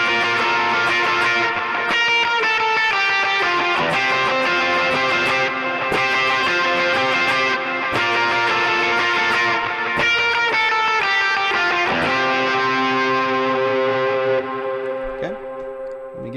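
Electric guitar lead line with delay added, ringing notes repeating and echoing over sustained tones, played alone and loud, from a worship song lead guitar part, fading at the end.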